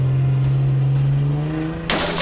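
A PJ Masks Cat-Car toy plays its driving-away sound effect, a loud electronic engine rev and whoosh that holds a steady tone and then bursts into a brighter rush at the end.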